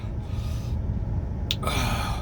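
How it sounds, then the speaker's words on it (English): A man breathing heavily after eating hot peppers, heard as loud, close, rough breaths and a sharp gasp near the end, with no words spoken. "still breathing heavy"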